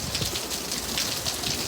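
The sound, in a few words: rain falling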